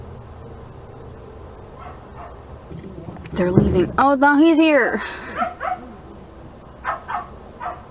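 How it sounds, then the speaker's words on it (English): A dog barks and whimpers in a short burst of excited yips close by, mixed in with people talking over it. "Why is the dog barking?"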